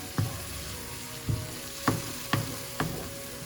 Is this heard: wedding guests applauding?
no